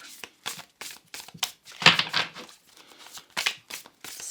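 A Light Seers Tarot deck gets a vigorous hand shuffle close by, its card stock rustling and slapping in uneven bursts with brief gaps, one louder flurry midway, and no speech.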